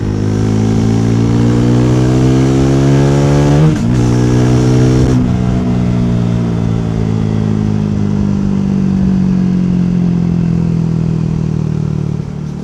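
A Triumph Thruxton 400 motorcycle engine revs loudly and close, rising in pitch, dropping back, then settling into a steady idle.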